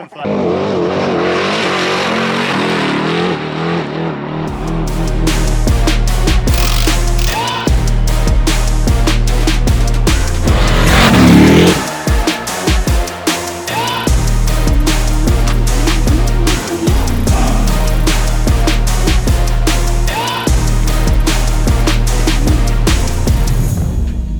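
A Toyota Tundra truck on KDM shock tuning runs near Barstow, its engine droning and revving steadily with bumps and rattles throughout, while people talk inside the cab.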